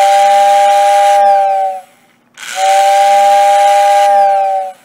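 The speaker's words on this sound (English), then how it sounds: "let's see what our 6020W sounds like." A Lionel postwar 6020W whistle tender blows its whistle twice, each a loud, close, breathy steam-style blast of about two seconds separated by a short pause.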